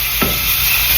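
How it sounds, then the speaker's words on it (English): Onion and meatballs fry in butter in a pan, giving a steady close sizzle with one brief stirring scrape. "I would recommend frying the onion and the meatballs in butter"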